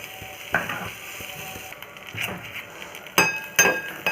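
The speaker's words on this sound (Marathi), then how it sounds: "आता याच्यामध्ये मी हे तांदूळ भाजून घेणार आहे खिरीचे" Rice grains roasting in ghee in a kadhai for kheer over low heat, giving a soft continuous sizzle with a few louder scraping stirs of a spoon against the pan.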